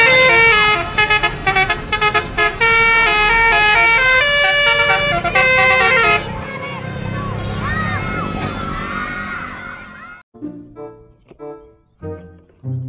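Harapan Jaya bus basuri horn, loud chiming melodic toots in quick repeated runs, then a long warbling siren-like sweep over a crowd murmur, ending in a few separate short honks.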